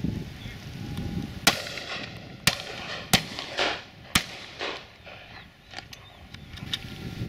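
Shotguns firing at a pheasant and partridge shoot, several sharp loud reports spaced unevenly over outdoor ambience, some close and some farther off, with brief echoing tails.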